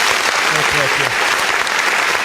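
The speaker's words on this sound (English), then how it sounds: "So Dylan, I think that deserves a bit of a round of applause." A crowd claps steadily, dense applause filling the whole moment, with a voice briefly heard over it.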